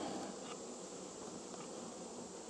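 A dense, steady hum of many honeybees swarming around an opened hive on a farm, close and continuous, with no voices.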